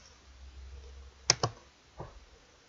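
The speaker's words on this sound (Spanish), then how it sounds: "Para eso le doy clic derecho." Two sharp mouse clicks close together, a right-click on a computer while working in geometry software, followed by a fainter click a moment later over quiet room hum.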